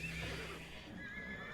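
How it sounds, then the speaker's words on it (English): A faint horse neigh from the Age of Empires 2 strategy game, a short whinny followed by low ambient game sound with no speech. "He's got quite a few horses"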